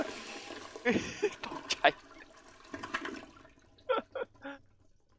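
Toilet flushing in the horror game Skibidi Escape From Toilet, heard as a few short watery bursts and splashes under excited voices talking over the gameplay.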